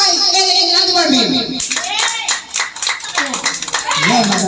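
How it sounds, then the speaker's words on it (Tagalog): A crowd at a fourth-anniversary celebration breaks into brisk, uneven clapping after a spoken voice, with chatter and children's voices mixed in throughout the applause. "Palakpakan natin"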